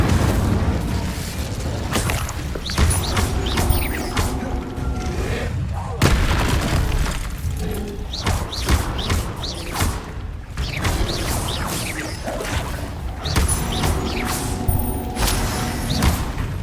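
Combat spells like Confringo and Incendio are cast in Hogwarts Legacy on Xbox Series X, a dense, continuous stream of booming blasts, thuds and whooshes with a voice mixed faintly underneath.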